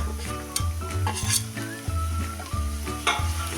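Chopped garlic and green chili hit frying onions in a pan for methi pithla, bursting into loud sizzling with repeated stirring scrapes and a few utensil clinks against the pan.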